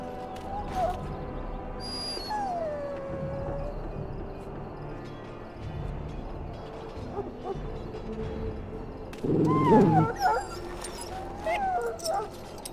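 A dog in a pen whimpers and whines in high, wavering cries in the Dragon Age: Origins video game, set over a quiet ambient backdrop with a brief louder burst near the end; a voice may be faintly present.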